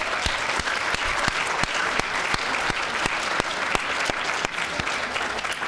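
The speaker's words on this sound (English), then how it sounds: "So a round of applause, please." Audience applause at a student union teaching awards ceremony in Brighton: sustained clapping from a room of people, with sharp individual claps standing out over a steady crackle.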